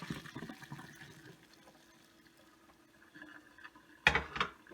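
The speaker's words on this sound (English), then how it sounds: "I'm straining the pasta now." Water drains as cooked pasta is strained in a kitchen, a soft continuous splashing and trickle that swells to a louder gush near the end, with no speech.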